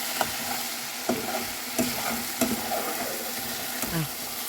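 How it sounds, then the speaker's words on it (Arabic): Peas are stirred in a pot over the heat, with a soft steady sizzle broken by five or six sharp scrapes and clinks of the spoon against the pot at irregular intervals. "كده الوقت بنقلب البسلة"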